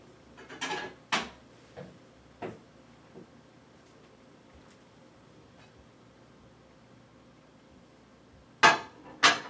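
A casserole dish taken out of a kitchen cupboard: a few sharp clunks and knocks of wood and crockery, separated by a quiet pause, then two more close clatters.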